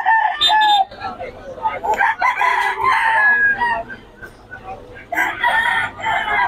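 Young stag gamecock crowing repeatedly in bursts at a busy cockfighting venue, loud and near, with background voices and crowd noise between calls.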